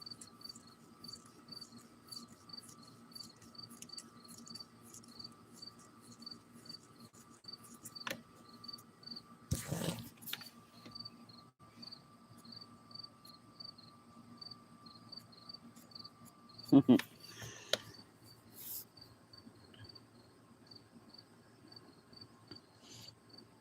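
Crickets chirp in a steady, faint pulsing rhythm throughout in the late afternoon, with a couple of brief louder knocks breaking in over the quiet background.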